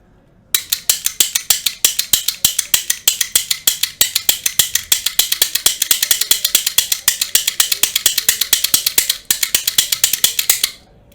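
Professional lock pick gun with five needles snapping against a lock, a fast, loud run of sharp mechanical clicks at an even rapid rhythm, close up, pausing briefly near the end before a last few snaps.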